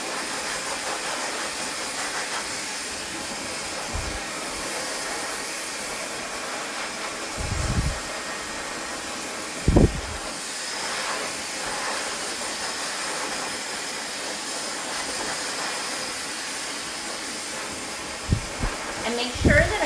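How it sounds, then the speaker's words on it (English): A blow dryer blows steadily as loose hair is cleared from a man's face after a haircut, a continuous airy whoosh with a few brief bumps and clicks. "take my blow dryer and get it off of his face"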